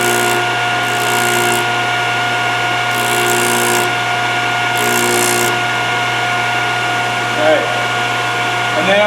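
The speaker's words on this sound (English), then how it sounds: "I'm going to turn my motor on. And just lightly bring the motor down into it till you get a decent grind." A Thorvie AV-40 sharpening machine motor runs steadily while a blade is ground, with a constant hum and intermittent bursts of higher grinding noise, close and loud throughout.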